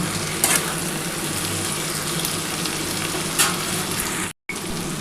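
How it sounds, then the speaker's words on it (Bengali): Bitter gourd and potato with onion and green chilli fry in a pan, a steady close sizzle that runs through the whole stretch with a few brief stirring bursts and one short gap near the end. "আমার কিন্তু আলু আর উচ্ছেটা কিন্তু মোটামুটি ভাজা হয়ে এসছে"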